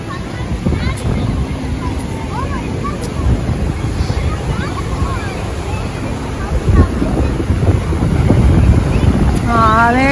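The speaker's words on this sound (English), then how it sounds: "Wow, the water gets really powerful right there." Powerful water rushes at the brink of Niagara Falls, a broad, constant roar blended with wind buffeting the microphone, while a person talks over it and some faint chirps sound near the end.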